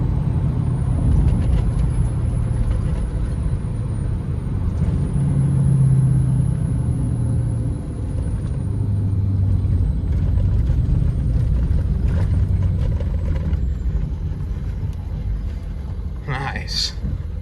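A 6.0 Powerstroke diesel pickup with a BD tap shifter decelerating in fifth gear with turbo vane exhaust braking, giving a loud steady engine rumble and drone throughout, with a brief hiss near the end.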